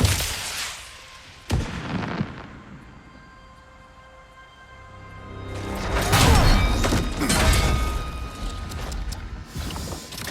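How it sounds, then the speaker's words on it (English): In the God of War Ragnarök video game, a firecracker goes off with a sharp crack, followed later by a heavier rolling burst of booms and crackling debris over a low rumble. "She's got a firecracker."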